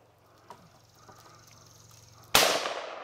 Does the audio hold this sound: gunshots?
yes